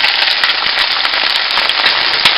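Cabbage stir-fries in hot oil with scallion, ginger and garlic, a loud, steady hiss and crackle close up with small spatters and scrapes running the whole time, with no voices.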